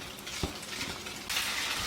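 Japchae glass noodles and prepared vegetables are tossed quickly in a frying pan, a soft continuous sizzle with a few utensil scrapes and knocks, the frying hiss growing brighter toward the end.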